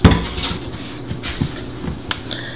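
Bread dough for Irish soda bread is turned out of a mixing bowl onto a counter, with a loud knock of the bowl followed by several lighter clatters and dull thuds close by.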